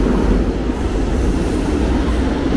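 A Milan metro train pulls into an underground station, a loud, steady rumble of wheels and motors filling the platform, with faint squeal and rattle from the rails throughout.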